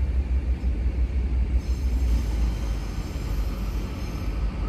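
A Class 150 diesel multiple unit pulls out of Cardiff Central station, giving a steady low engine rumble and rail noise that holds at a constant loudness across the whole stretch, with no voices.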